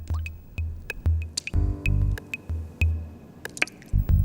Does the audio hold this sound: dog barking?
no